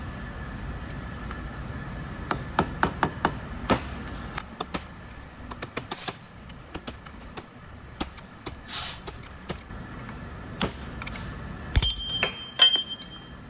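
A hammer striking a chisel to drive a bearing race out of a Chelsea PTO from a truck: sharp metallic taps, sometimes single and sometimes in quick clusters, with short pauses between them and a closer flurry of clinks near the end.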